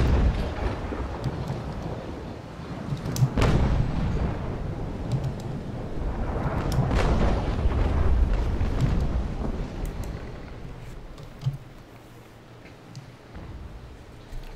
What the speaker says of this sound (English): At least you can do your volleys, or your salvos.